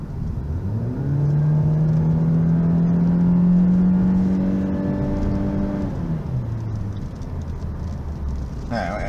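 A 2016 VW Golf Flex accelerating hard, its engine note climbing steadily in pitch as it revs up, then settling back, heard from inside the car beneath occasional conversation.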